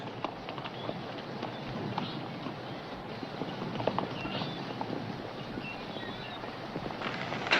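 Horses walk over rough foothill ground, hooves clip-clopping in a steady, uneven patter that carries on throughout, moderately close with a faint windy background.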